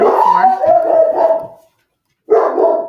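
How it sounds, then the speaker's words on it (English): A nearby dog barks and whines in loud, drawn-out bursts, stops for a moment, then starts again, with a person's voice briefly heard. "Sorry, that's my dog."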